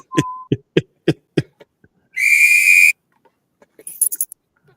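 A sharp, bright whistle sound effect holds steady for just under a second amid scattered knocks and clicks, followed by a short burst of quick higher chirping whistle tones.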